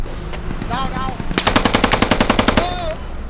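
Rapid automatic gunfire shooting through a fence in the video game Squad, a loud close burst of evenly spaced shots after a brief spoken exchange, with voices before and after.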